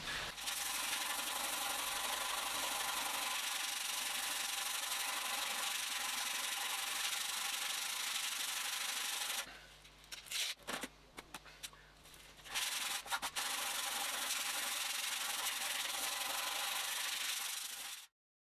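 Steady, continuous rasp of 80-grit abrasive sanding motorcycle sheet metal on a Yamaha Drag Star, close and loud, briefly pausing in the middle with a few scrapes before resuming and then stopping abruptly.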